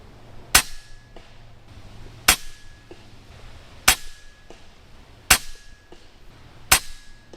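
An airgun fired five times at a 100-yard target, each shot a sharp, loud crack spaced roughly one and a half seconds apart, with a short faint ring after each and quiet outdoor background between.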